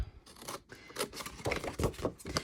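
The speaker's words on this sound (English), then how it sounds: "take your scissors" Repeated crisp snipping and rustling of scissors cutting through paper for a triangle treat box, close up, with irregular bursts and no talking.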